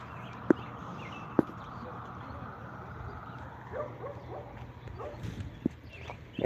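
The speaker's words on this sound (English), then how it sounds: "There goes that dog barking again." A dog barks a few sharp, isolated times at a distance outdoors in the rain beside a railway line, over steady rainfall and low ambient rumble.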